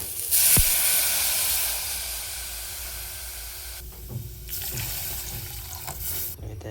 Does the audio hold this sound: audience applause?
no